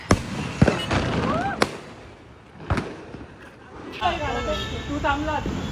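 Diwali firecrackers burst at a festive dawn celebration on Phadke Road, with several sharp, loud bangs spaced a second or so apart. People talk and call out over the gaps between blasts.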